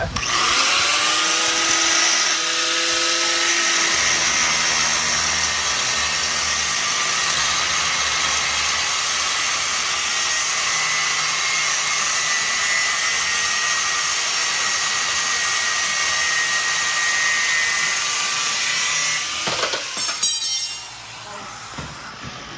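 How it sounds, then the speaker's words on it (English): Angle grinder grinding metal for a custom chopper brake pedal: a loud, steady, high whine runs nearly unbroken for about twenty seconds, with a brief rise in pitch at the start and a clatter as it cuts off near the end. "I just let the grinder do the work. I let the weight of it. Just eat it."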